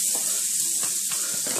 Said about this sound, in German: Jetzt den Herd ein bisschen runterdrehen, köcheln lassen.